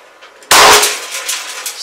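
One loud, close shot from a Gletcher SW MP air pistol, an abrupt crack that trails off into a faint ringing hiss.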